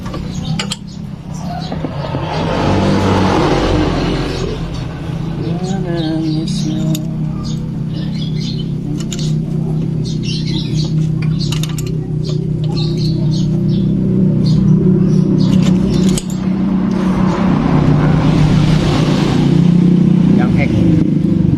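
A freshly assembled Yamaha Fino 125 motorcycle engine runs steadily with a low droning hum and rising revs, close and loud throughout, while people talk over it.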